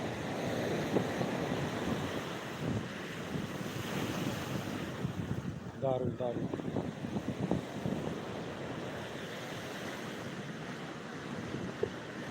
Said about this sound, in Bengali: বিশাল বড় বড় ঢেউ আছে আবার একটা বড় ঢেউ আছে